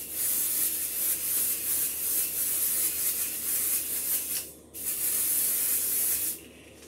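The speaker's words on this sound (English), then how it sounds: "Let's give this a little extra spritz of a just a light tack adhesive spray." Light tack adhesive spray hisses from an aerosol can in a steady continuous burst, close and loud, with a brief pause before a second long spray and another short stop near the end; no talking.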